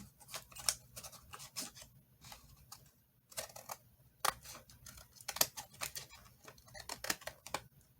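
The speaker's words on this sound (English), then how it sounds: "so now it's time to cut around it" Scissors snip around a paper card piece for an autumn journal card, a run of quiet, irregular crisp cuts with short pauses between bursts, close by and alone.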